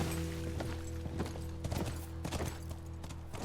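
Horse hooves clip-clopping in the video game The Last of Us Part 2, a steady rhythmic run of hoofbeats, fairly faint and close over a low hum.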